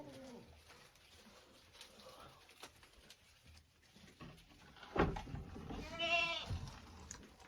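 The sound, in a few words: young goats bleating in a shed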